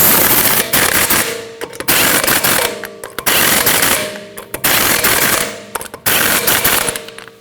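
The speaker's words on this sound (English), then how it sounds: "Now tighten your lug nuts in a star pattern." An impact wrench rattles loudly in five repeated bursts of roughly a second each, separated by brief pauses, as wheel lug nuts are tightened on a 2013-2019 Ford Escape.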